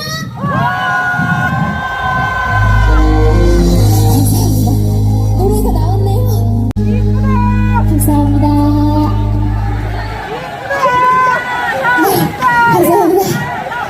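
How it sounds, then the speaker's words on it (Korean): An outdoor festival crowd at a tug-of-war celebration claps and cheers on a windy day while a voice talks over a sustained tonal music bed, the crowd noise swelling near the end. "자, 더 크게 박수와 함성!"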